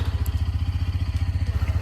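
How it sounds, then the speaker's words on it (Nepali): A motorcycle engine idles steadily just after starting in Ghale Gaun village, Nepal, its low, even thumping pulse running close and loud throughout with no talk. "बाइक चाहिँ कहिले स्टार्ट भइसकेको छ देख्न सक्नुहुन्छ है"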